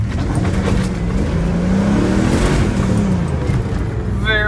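A Mercedes C43 AMG accelerates hard from inside the cabin, a loud, steady engine roar that rises and falls in pitch as it pulls through the gears over several seconds.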